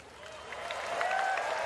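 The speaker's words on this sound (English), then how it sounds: "Applause if you want it." A small audience at a Dota 2 esports finals event applauds, the clapping swelling gradually and growing louder over a couple of seconds, with faint whistling mixed in.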